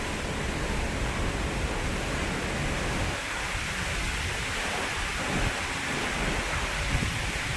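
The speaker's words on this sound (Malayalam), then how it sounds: "ഭയങ്കര കാറ്റാണ് ഇങ്ങനെ അടിക്കുന്നത് പിന്നെ മഴയായി" Strong wind roars steadily with rain in a Kerala yard where a mango tree once stood. The broadband rush stays loud and continuous, with gusts surging and fading and no voices.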